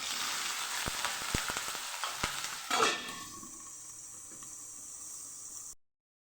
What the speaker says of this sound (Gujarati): હવે મરચાંને આપણે સરસ તેલમાં સાતડી લેવાના છે